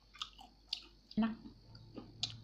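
Chicken porridge with crackers is eaten close up, giving soft wet chewing and a few light crunchy bites at an uneven pace, quiet overall.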